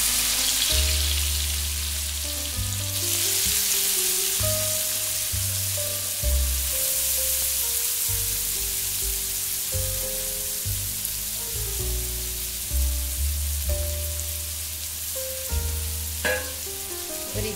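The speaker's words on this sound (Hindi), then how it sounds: "अब जो तवे पर तेल बचा है इसी में हम डालेंगे अपनी ये प्याज" Onions fry in leftover oil on a tawa for a chutney, giving a steady broadband sizzle that holds throughout, with low tonal background sounds underneath and a few louder crackles near the end.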